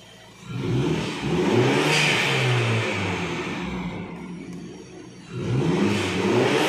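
Mini Cooper F56 from 2022 fitted with an Armytrix exhaust set to its quietest half mode, revved loudly and alone in two bursts with a steadier hold between, then rising again at the end.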